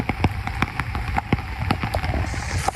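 Steady rain patters on a surface in a dense, close wash of drops, with scattered louder taps standing out over a continuous hiss.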